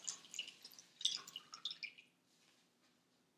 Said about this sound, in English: you can squeeze your sponge over the next bowl and the water will drip into that bowl